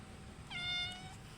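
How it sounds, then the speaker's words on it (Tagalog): A cat gives a single clear, drawn-out meow in a dark spot, close and fairly quiet over a faint background hiss. "May pusa dito."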